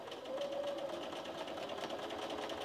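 A sewing machine fitted with a walking foot stitches a straight quilting line, giving a steady, fast mechanical whirr with an even needle rhythm that runs without a break, close and fairly loud.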